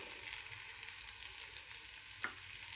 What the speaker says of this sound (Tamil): பூசணிக்காய் வதங்கடிச்சு இப்போ தேங்காய் சுரண்டி வச்சுருக்கிறேன் இப்போ அதை போட்டுக்க போகிறேன்